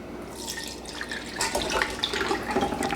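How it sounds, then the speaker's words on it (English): Tomatoes tipped from a bowl into a stainless steel strainer at a kitchen sink, giving a wet, splashing, dripping wash of liquid that builds louder in the second half, with no talking. "So we're going to take these tomatoes and we're going to dump them into the strainer here."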